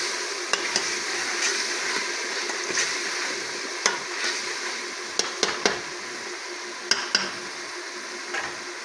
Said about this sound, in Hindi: अदरक का पेस्ट शामिल करेंगे। और 2 मिनट के लिए फ्राई करेंगे अच्छे से